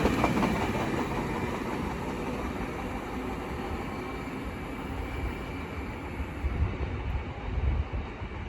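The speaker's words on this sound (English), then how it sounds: "Now departing is the 1405 Great Western Railway service from London Paddington to Great Malvern" A Great Western Railway train departs Slough station, a steady close rumble of wheels and rolling stock with faint clickety-clack that holds loudly throughout.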